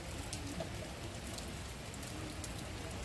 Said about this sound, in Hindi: सुबह से ही बारिश हो रही है।